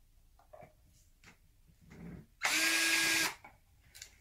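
A power drill is used to remove the back plate screws of a Strat-style guitar. It gives one short, close whir of under a second after a few faint handling knocks and rustles, in a quiet room with no talk.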